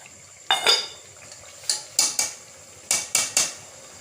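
Okra and meat roasting in a pot while a metal spoon stirs, giving a series of sharp scraping clatters against the pan, a longer one early then quick clusters of two and three, with a faint frying hiss underneath.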